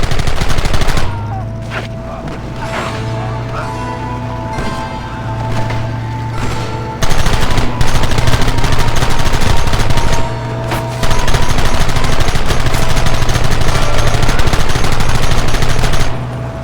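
Sustained gunfire in a Red Dead Redemption western shootout, with rapid rifle and pistol shots crackling almost continuously over rumbling background, loud and dense throughout, with brief bursts of shouting.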